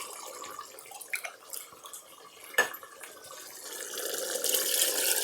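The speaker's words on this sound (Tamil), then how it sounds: "இப்போ நான் தண்ணி சேர்க்க போகிறேன்." Water is poured from a vessel into a cooking pot for chicken biryani rice, a soft splashing trickle with a few louder splashes, building into a steady hissing pour toward the end.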